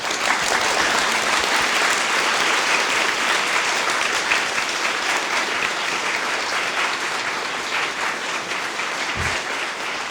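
A university lecture audience gives Nobel laureate Dr. Ciechanover a sustained round of applause, a thick, even wash of clapping from a large crowd that holds steady and slowly fades a little toward the end.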